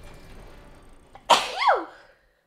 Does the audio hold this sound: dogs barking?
no